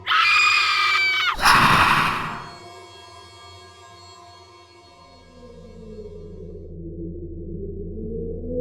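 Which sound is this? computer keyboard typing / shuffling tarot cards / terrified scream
terrified scream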